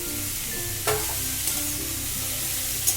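Boiled radish greens going into a pan of frying mustard seeds, giving a steady soft sizzle with a few sharp clinks of a utensil against the pan.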